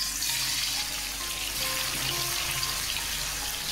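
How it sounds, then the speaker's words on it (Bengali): Potatoes dropped into hot oil fry with a continuous close bubbling hiss, steady and moderately loud throughout, with no talk over it. "তেল গরম হয়ে গেছে। এবার আমি এই আলুগুলোকে ছেড়ে দিচ্ছি।"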